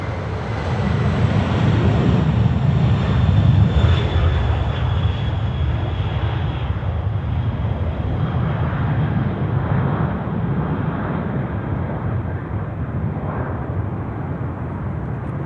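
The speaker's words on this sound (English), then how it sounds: "747-400 freighter. Now coming." UPS Boeing 747-400 freighter departing Sydney Airport at night, a loud, broad jet engine roar swelling early then holding as a steady rumbling drone with wind buffeting the microphone, no talk.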